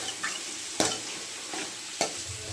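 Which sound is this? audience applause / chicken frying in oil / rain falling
chicken frying in oil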